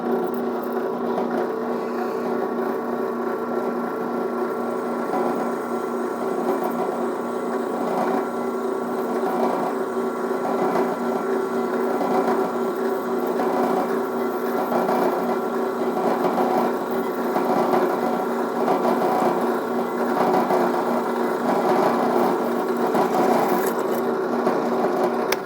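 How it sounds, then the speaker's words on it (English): A Harbor Freight drill press bores a small hole through a scrap piece of steel, a steady whirring motor hum with a rapid rhythmic buzz that runs unbroken throughout, close and with no talk. "let's grab a scrap piece of steel, let's throw it in here and drill a little hole and see what it does."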